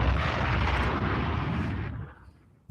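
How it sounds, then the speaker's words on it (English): An explosion sound effect on a livestream erupts as a dense, rumbling blast that roars steadily for about two seconds, then fades away before a sudden burst of noise cuts back in. "Yes, I heard that explosion."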